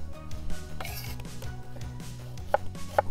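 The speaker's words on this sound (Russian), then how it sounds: "я по стандарту полукольцами нарезаю репчатый лук" A knife cuts an onion into half rings on a board for chicken gizzards cooked in a kazan over an open fire, with repeated soft chops and two sharper taps near the end, all under a steady background hum.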